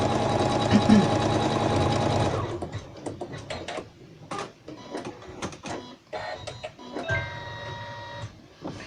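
A sewing machine stitches a fabric coaster in a steady, dense run for about two seconds, then gives way to quieter clicks, handling noises and short mechanical bursts, with a brief renewed whirr near the end.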